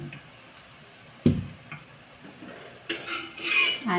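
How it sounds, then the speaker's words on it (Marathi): A spoon stirs cucumber thalipeeth batter in a bowl, giving sparse soft scrapes and clinks, then a louder metallic clatter of utensils toward the end. "असं पीठ जेवढं मिक्स करता येईल चमच्याने हलवून तेवढं"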